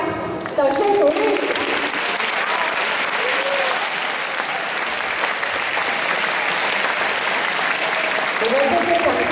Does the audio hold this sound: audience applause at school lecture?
yes